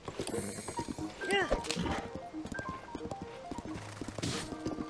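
A horse in Zelda: Tears of the Kingdom runs with a rapid clip-clop of hooves, and a whinny rises partway through over game sounds and music.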